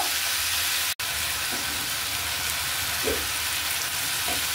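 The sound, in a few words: yardlong beans and flat beans frying in a pan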